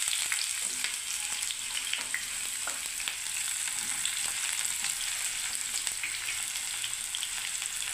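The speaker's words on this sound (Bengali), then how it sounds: "এবারে আমি পেঁয়াজটাকে ভেজে নিচ্ছি বন্ধুরা," Onions fry in a hot pan for a vegetable dish, giving a steady, bright sizzle that carries evenly from start to finish at close range, with no voices over it.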